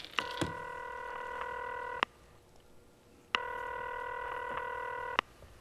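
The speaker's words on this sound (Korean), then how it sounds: "제가 전화 한번 해보겠습니다." On a Korean TV comedy show, a telephone sounds two long, clear electronic tones separated by a short pause, heard alone.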